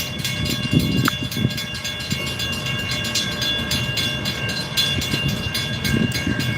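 Freight train with locomotives rolling past, a loud continuous rumble of railcars with rhythmic wheel clatter and rattling, no voices.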